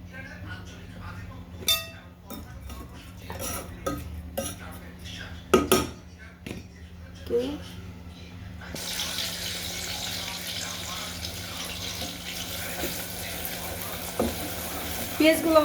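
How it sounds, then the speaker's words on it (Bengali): Chopped onions frying in hot oil in a pan while beef curry is cooked: sharp clinks and scrapes of utensils come first, then a continuous loud sizzle takes over for the rest. "পেঁয়াজগুলো আমার ভাজা হয়ে গেছে"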